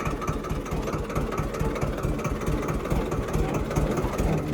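A tractor engine runs steadily at a throbbing idle, loud and close, with a constant low chugging pulse and no speech.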